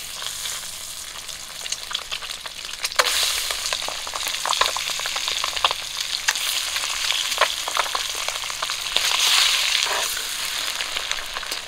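Boiled duck eggs frying in hot oil with salt and turmeric, a steady, close sizzle and crackle with occasional stirring clicks and spits, no voices.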